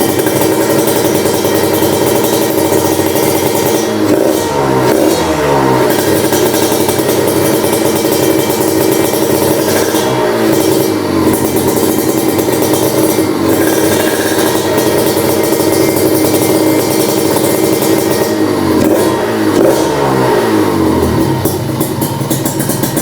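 A Kawasaki Ninja RR motorcycle engine runs loud and near, idling with a rough two-stroke burble and rising in repeated blips of throttle while its radiator coolant is being refilled.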